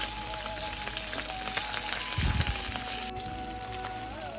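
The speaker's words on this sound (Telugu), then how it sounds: "పోపు వేపుకోవాలి." Tempering spices fry in oil in a pan with a continuous close sizzle and hiss, joined by a brief low clatter partway through.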